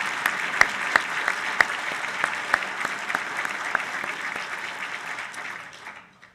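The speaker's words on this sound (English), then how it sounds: "Let's give him another round of applause." Audience applause at an evening Naval War College event, steady clapping from a seated crowd, fairly soft and even with a few distinct claps near the start, fading out at the end.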